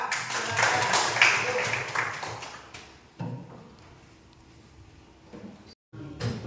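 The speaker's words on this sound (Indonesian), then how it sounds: "Tepuk tangan buat kelompok 2" Schoolchildren clap for group 2 in a classroom, a burst of applause that fades after a few seconds, followed by quieter room noise and a brief clatter.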